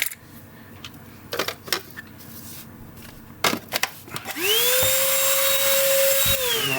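A cheap Milwaukee-compatible cordless vacuum switches on after some clinks and taps on a workbench, its motor rising into a loud steady high whine that holds to the end.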